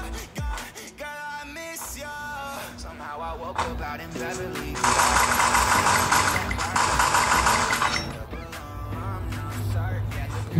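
A motorcycle engine idles in the Free Fire mobile game with a steady, buzzing rumble, mixed with game music and brief sound effects, loudest in the middle.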